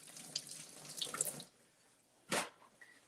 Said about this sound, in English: let's wash these and cut them in half